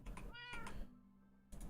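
Cats meowing in Minecraft, two or three short, clear, pitched meows in quick succession over a quiet background with a soft knock, and no talking.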